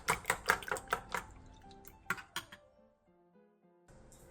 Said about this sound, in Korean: 볼에 계란 5개와 다진 마늘 3분의 1스푼, 소금 3분의 1티스푼, 설탕 3분의 1티스푼을 넣고 골고루 섞어주세요